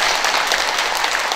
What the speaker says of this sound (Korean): 지금 박수 칠 일이 아니요